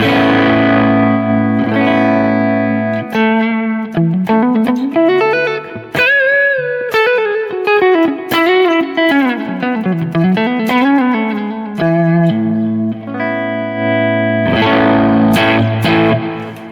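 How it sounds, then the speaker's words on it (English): An electric guitar through a Top Secret OD clipping overdrive pedal rings out sustained chords, then plays a bending, wavering lead line with slight grit, loud and close, before returning to chords. "the Top Secret OD is just kind of a clipping overdrive"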